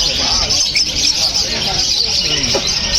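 Lutino birds at a pet market keep up constant high chirping and calling from a crowd of birds, with people talking underneath.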